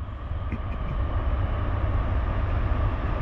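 A Norfolk Southern freight train rolls past on the Lehigh/Conrail line, a loud, steady low rumble of wheels and wagons that stays even throughout, with no voices.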